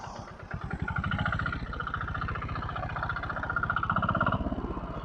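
A Royal Enfield diesel motorcycle engine ticks over roughly, with a close, steady, uneven chugging thump that keeps going throughout.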